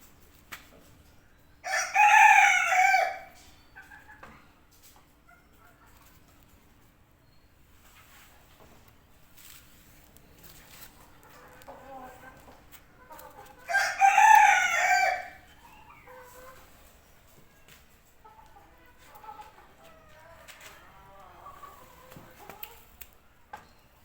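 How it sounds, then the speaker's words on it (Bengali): A rooster crows twice, loud and close, with a long gap between calls, and soft clucking and faint yard noise fill the quiet stretches. "এটা আমার একটা টাইগার মুরগি।"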